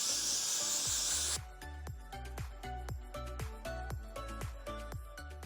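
A hairspray can sprays in a loud, close, continuous hiss onto a drag wig being styled into an updo, then stops abruptly, giving way to a run of rhythmic tapping and knocking sounds.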